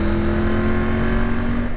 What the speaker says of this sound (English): When with this Arrow exhaust, hang on, let me go down a few gears,